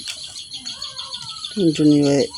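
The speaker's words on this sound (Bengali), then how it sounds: "টুনটুনি পাখির বাচ্চা।" Thin, high-pitched chirping from tailorbird chicks runs steadily, and a nearby voice speaks briefly near the end.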